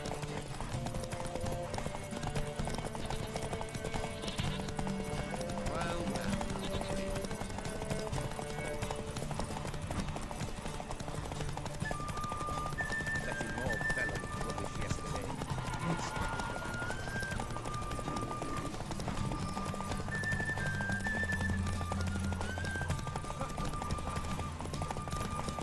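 Hoofbeats of Roach, Geralt's horse in The Witcher 3: Wild Hunt, with a steady clip-clop over a game soundscape of music and ambience, moderately loud and continuous for the whole stretch, with occasional neighing.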